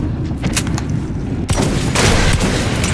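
Gunfire in Metro 2033 crackles in rapid, close bursts of shots and booms that run without a break.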